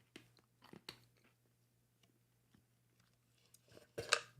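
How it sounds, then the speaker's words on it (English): Seeds crunch and crack close to a microphone during a live baseball stream, a few sharp snaps early on, then faint chewing, and a louder crunch near the end. "Apologies in advance for any chewing or seed cracking that you hear in the microphone."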